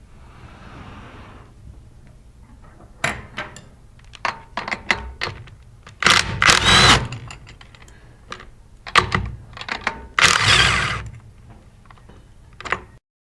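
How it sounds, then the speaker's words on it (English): A 3/8 drive pneumatic impact gun takes out the discharge manifold bolts on a Versamatic 2-inch plastic-bodied, bolted air-operated diaphragm pump. It fires in several short, loud hammering bursts with clicks and clunks of handling between them. "today we're going to use a 3/8 drive impact gun. We'll start off by removing the discharge manifold."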